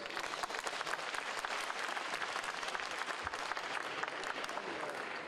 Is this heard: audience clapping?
yes